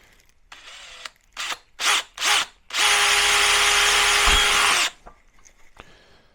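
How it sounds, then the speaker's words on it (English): A power drill bores a small hole in the manifold of a Coleman Road Trip grill, with a few short trigger bursts followed by one sustained whine of about two seconds, close and loud, then quiet. "I'm going to drill a small hole first."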